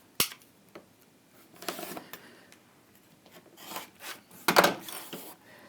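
Excess fabric is trimmed away while sewing, with a few quiet, scattered cutting and rasping sounds and brief sharp clicks separated by pauses, close by.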